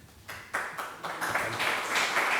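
An audience at a documentary heritage conference in the Canary Islands breaks into applause that starts sparse and swells into steady, fairly loud clapping.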